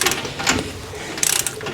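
A ratchet wrench torquing down U-bolts on a full-size Jeep rear long-travel suspension, giving short bursts of rapid metallic clicks, a quick run at the start and another near the end, close and crisp.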